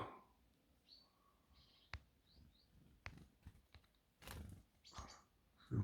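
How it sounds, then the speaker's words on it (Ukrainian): Small birds chirp faintly outdoors in a rural garden, brief high tweets scattered through a quiet background with a few soft knocks and rustles nearby. "Пташки літають."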